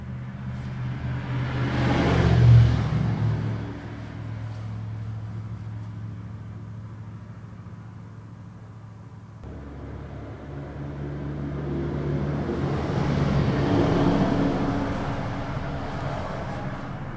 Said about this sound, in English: We've got a lot of cars coming through right now.